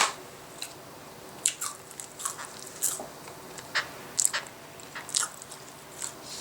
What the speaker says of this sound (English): It's so crispy. I can't stop eating.